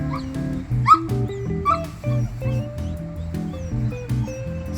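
A dog on a nature walk whimpering, a string of thin, high whines and little yips that rise and fall over a steady tonal background, close by.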